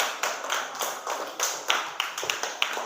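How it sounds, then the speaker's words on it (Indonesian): Classmates clap for group 1 after their presentation on a balloon deflating when blowing stops, in a school classroom lesson; scattered, uneven claps tapping at a moderate level. "tepuk tangan dulu untuk kelompok 1"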